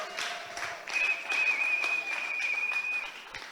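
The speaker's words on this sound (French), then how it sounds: "est-ce qu'on peut acclamer pour eux quand même? On peut acclamer pour eux." An audience at an evening church celebration applauds and cheers for a dancing couple, moderately quiet clapping and voices swelling in the middle, with a sustained whistle-like tone running over the crowd noise.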